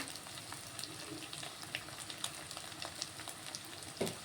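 Egg frying in a pan for egg noodles gives a soft, steady sizzle with light crackles and a small clink near the end, quiet and close with no voices.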